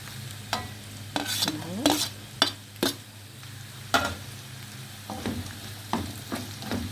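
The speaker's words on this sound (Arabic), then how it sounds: "شوحهم بردك مع بعض لغايه لما يتبلوا" Garlic sautéing in hot oil in a pan for sesame ful, stirred with a utensil: a low sizzle beneath several sharp scrapes and knocks at uneven intervals, close up, with no talking.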